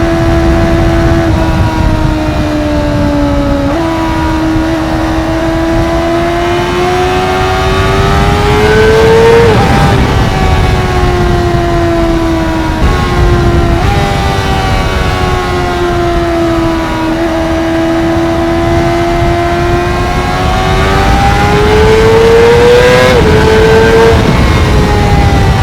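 A Honda CBR600RR sport bike on a ride, its engine screaming loud and close as it revs through the gears, the pitch climbing, dropping at each shift and climbing again, heavy wind rumble underneath.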